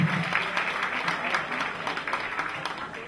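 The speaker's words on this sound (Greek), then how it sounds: "δυνατό χειροκρότημα" Applause rises from the audience at a beauty pageant gala as a contestant is introduced, a continuous clatter of many hands at moderate loudness with faint crowd noise beneath.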